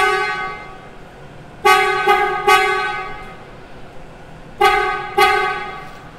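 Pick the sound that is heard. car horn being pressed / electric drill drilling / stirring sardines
car horn being pressed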